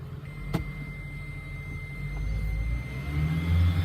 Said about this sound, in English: Oh, the engine's on.